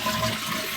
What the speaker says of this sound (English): So let's see if it's flushing properly.